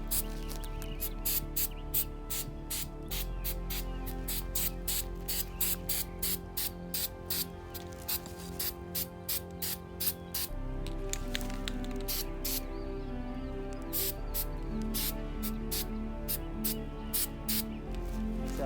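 Short bursts of pruning sealer spray hiss onto freshly cut crepe myrtle branches, a rapid run of close, sharp sprays repeating steadily over a low background hum.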